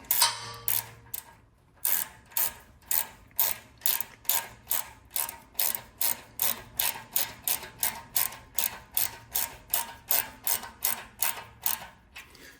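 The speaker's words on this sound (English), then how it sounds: "And just tighten that up as tight as it can go." Tightening a clamp on a Porsche sports exhaust with a ratcheting tool: a long, even run of sharp, close clicks at about two per second, with one short pause near the start.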